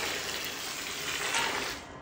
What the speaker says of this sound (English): so I add water to it